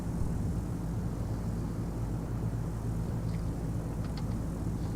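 Steady, continuous drone of a propeller airplane in the Dovetail Flight School video game, flying from Dunsfold to Southampton; the engine noise holds even and fairly loud throughout, with no talk over it.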